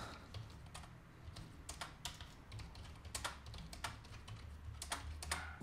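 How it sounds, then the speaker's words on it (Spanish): Rapid clacking of Dell KM3322W keyboard keys, irregular bursts of sharp clicks at close range with a low hum underneath, no talking. "las teclas que tienen que tener esos apoyos metálicos son las que suenan más"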